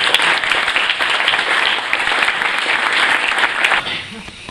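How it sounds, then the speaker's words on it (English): Wedding guests break into a steady, full wash of applause during a best man speech, dense clapping held at even loudness before tapering off at the end, with some voices and cheers underneath. "Can I have a round of applause for that?"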